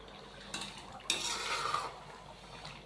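Chicken karahi with four or five whole green chillies gets stirred in a pan: a spoon scrapes and clinks against the metal in two bursts, the longer one lasting most of a second, over a faint background with no talking.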